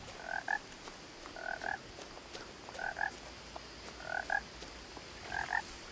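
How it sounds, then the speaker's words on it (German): A loud frog in What Remains of Edith Finch croaks in five evenly spaced double bursts, each a quick pair of bright throaty pulses standing out clearly against a soft ambient background with no talking. "Das ist der laute Frosch."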